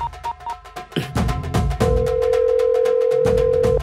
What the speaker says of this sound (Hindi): हम्म सुन रही हो ना फोन बज रहा है